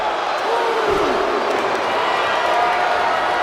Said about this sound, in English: Jam-packed crowd here in Phoenix,